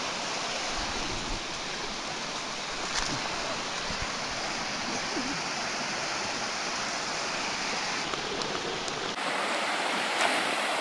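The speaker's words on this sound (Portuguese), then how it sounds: "Chegamos aqui no final, na cachoeira." Steady broadband rush of a waterfall at a campsite, loud and continuous with no break, falling water dominating throughout and no voices.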